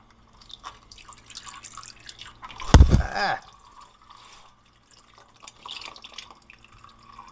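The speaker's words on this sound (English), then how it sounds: "We can go ahead and drain the fluid out of this transmission." Transmission fluid draining from a loader, a brief gush of liquid splashing at mid-clip followed by faint dripping and trickling, close by with quiet background noise.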